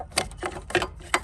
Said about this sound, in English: you just pull the lever down and the whole plug just comes out